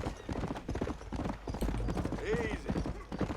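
Horse hooves clip-clop at a steady trot in Red Dead Redemption, close and moderately loud, with a brief neigh partway through and a voice talking over the hoofbeats.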